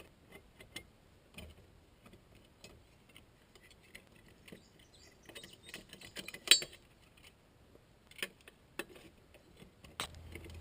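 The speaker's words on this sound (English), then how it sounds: "you're going to sit there and loosen up all the lug nuts." Faint, quiet clicking and ratcheting from a hand ratchet loosening the lug nuts on a car wheel during a spare tire change, scattered irregular ticks and short bursts with no talking.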